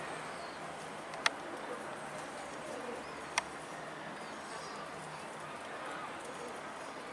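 Kept pigeons coo softly at a distance, a low murmuring under steady background hiss, broken by two sharp clicks and faint voices.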